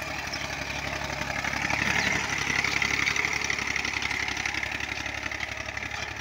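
A tractor engine drives a rotavator through a field, producing a continuous rumbling chug with a harsher mid-range churn, steady and fairly close, swelling slightly in the middle.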